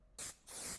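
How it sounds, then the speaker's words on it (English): Two quick bursts of Revolution makeup setting spray hiss from a pump bottle, soft and close with a short pause between them. "And then I will use the setting spray, which is the Revolution."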